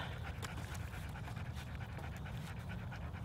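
A dog pants steadily and quickly up close at an overnight bushcraft camp, a rapid rhythmic huffing that continues without pause.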